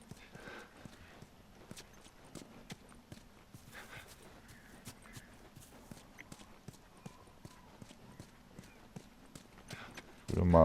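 Horse hooves clopping at a steady walking rhythm in the video game The Last of Us Remastered, fairly faint, with a louder burst of noise at the very end.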